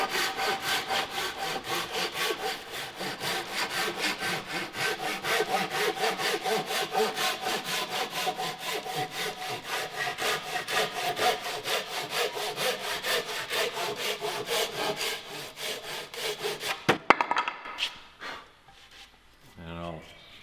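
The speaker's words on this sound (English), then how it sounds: "sharp Japanese handsaw, there's no need for a lot of pressure. The saw cuts with relatively little pressure." A sharp Japanese handsaw cuts through wood under light pressure in quick, even rhythmic strokes for about seventeen seconds, close and loud, then stops, leaving a few faint handling noises.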